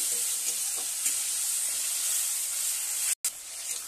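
Turmeric and chili powder fry in a pan with a splash of water, giving a continuous, even sizzling hiss throughout. It cuts out for a moment near the end.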